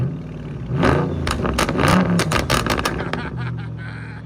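A Chrysler 300 with a swapped 6.4-liter HEMI V8, AWD and straight pipes revs hard several times, a loud, deep burbling roar surging and falling up close, with people talking underneath.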